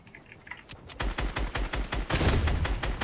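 Rapid bursts of video game gunfire in a Turkish-played shooter, starting sparse and faint then erupting into a dense, loud fusillade of evenly spaced shots after the first second, with no voices.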